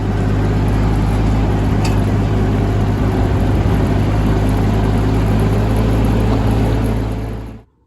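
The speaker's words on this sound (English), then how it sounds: "So let's hop on the tractor, get up there and get started." A farm tractor engine runs steadily up close, a loud continuous low rumble with a constant hum, before cutting off abruptly at the end.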